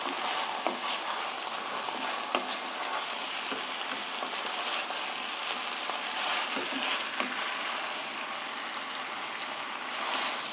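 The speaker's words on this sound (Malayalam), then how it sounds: "അങ്ങനെ ചിക്കൻ മസാലയിൽ പൊതിഞ്ഞ് ഇങ്ങനെ വഴറ്റിക്കൊണ്ടിരിക്കുകയാണ്." Chicken sautés in biryani masala, a continuous crackling sizzle with intermittent stirring scrapes, moderately loud and steady with no speech.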